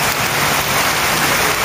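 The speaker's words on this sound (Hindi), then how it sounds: "चंगी बारिश चल रही है" Steady, loud rain pours down without a break, a dense even hiss of drops hitting surfaces outdoors during a heavy downpour, with no voices over it.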